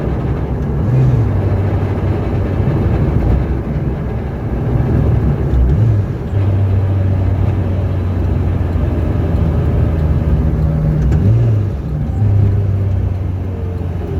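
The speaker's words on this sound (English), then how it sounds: "They're getting a little bit sharper. Turbo noises." A tuned Citroen Saxo VTS Turbo car on a test drive, its engine droning steadily from inside the cabin with low tonal whines rising and falling as the turbo spools, loud and continuous throughout.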